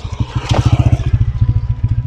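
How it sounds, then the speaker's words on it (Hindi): A motorbike approaches on a forest road in a Pakistani valley, its engine a close, rhythmic thumping putter that holds steady and loud throughout. "एक गाड़ी एक बाइक आ रही है, उस बाइक को देखें"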